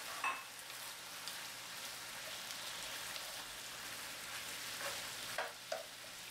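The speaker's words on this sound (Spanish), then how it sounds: "Vamos a agregar la cebolla. Y seguimos salteando." Onion and broccoli sauté in a pan with a faint, steady sizzle and crackle, with a few light stirring clicks near the end and no talking.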